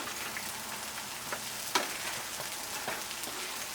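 Crispy gochujang vegan chicken pieces stirred in a pan, a soft continuous sizzle broken by scattered scraping clicks and one sharper knock near the middle, close and fairly quiet with no talking.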